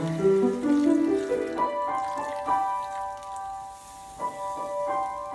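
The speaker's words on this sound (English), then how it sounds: "now I'm going to give it a couple of rinse" Water runs and splashes in a kitchen sink as soaked soy chunks are rinsed, with intermittent drips and clinks and a faint tonal ringing, fairly quiet and close with no talking.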